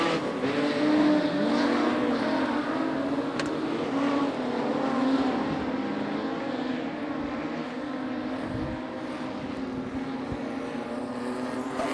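Modified production race cars circle Charlton Raceway in a heat race, a steady, dense engine roar from a pack of cars sustained throughout at moderate distance, with no talk.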